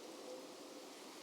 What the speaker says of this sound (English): The rain is so fucking loud.